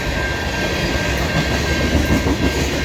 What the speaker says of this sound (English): And the Norfolk Southern unit is a SD70 ACC rebuilt